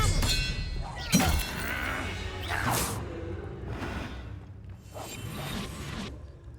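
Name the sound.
Confringo spell cast in Hogwarts Legacy video game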